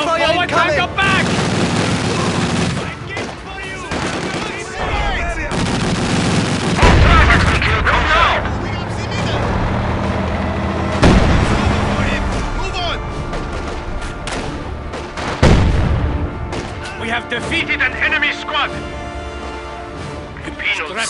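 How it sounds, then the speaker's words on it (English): Infantry gunfire and artillery crash through a Stalingrad battle in Company of Heroes: sharp, repeated shots and heavy booms over a steady wind-like roar, with voices calling out between them. "Infantry fire incoming!"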